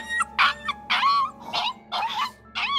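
Dog in the horror video game Tiny Bunny, heard close as a run of whimpers, yips and short howling whines repeating over a few seconds.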